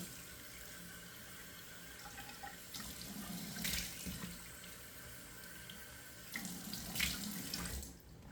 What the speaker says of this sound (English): Put my cold water back on, and 2 splashes of cold water to close those pores.